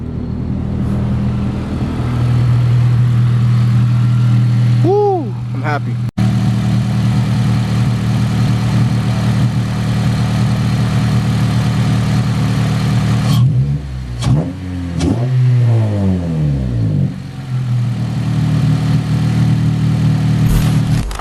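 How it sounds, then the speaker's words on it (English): A car engine fitted with a new fuel rail idles with a steady low hum, then revs up sharply a couple of times before settling back; a voice briefly exclaims. "Clean idle too, sounds good, sounds better than stock."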